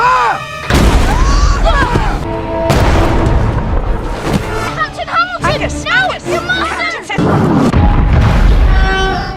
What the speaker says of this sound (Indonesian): Hamilton akan menunjukkan simulasi senjata Marion. Ia akan ditembakkan ke dalam danau.